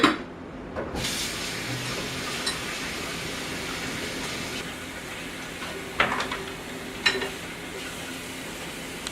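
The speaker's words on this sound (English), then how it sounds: "let me wash my hands up here." A tap runs with a steady broad hiss of water, with a few brief louder splashes as hands move under the stream.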